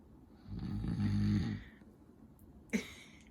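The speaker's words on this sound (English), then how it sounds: "Is Daddy's snoring keeping you awake?" A man snores loudly near a baby, one long, low, rasping inhalation snore that swells and fades, followed by a brief sharper snort a moment later.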